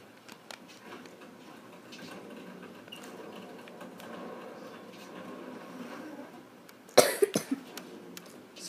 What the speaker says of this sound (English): Sorry about my coughing.